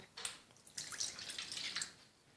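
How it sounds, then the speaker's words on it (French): Water poured into a container while making slime with cornstarch, a close trickling and splashing stream lasting about two seconds with no talk. "on va commencer par mettre l'eau dans le récipient"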